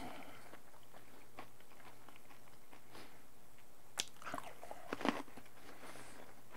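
Someone bites into and chews a freeze-dried applesauce cookie, with a few soft crunches near the end over quiet background hiss, close and faint.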